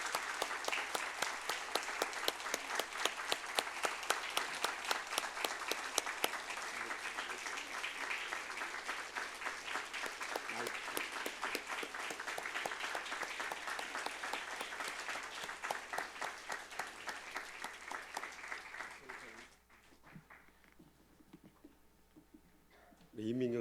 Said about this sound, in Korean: 우리 뜨거운 박수로 맞이해 주시면 감사하겠습니다.